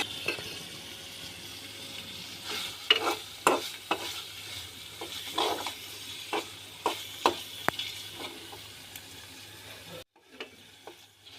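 A spatula stirs coriander leaves into a shrimp curry in a pan, with a soft sizzle under sharp intermittent clinks and scrapes, then a short quiet break before a few more scrapes.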